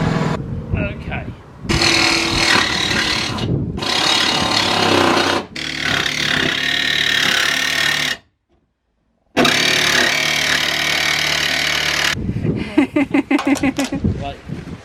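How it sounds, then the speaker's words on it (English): A jigsaw cuts a hole through a camper van roof in long, loud, rasping bursts, stopping briefly between passes and ending in a stretch of rattling, choppy strokes. "Then we cut the hole out with a jigsaw."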